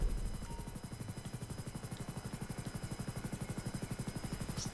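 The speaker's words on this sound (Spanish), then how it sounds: "El helicóptero se me da bien." Helicopter in GTA 5 Online with a steady, rapid rotor chop pulsing evenly throughout at moderate loudness, heard alone without talking.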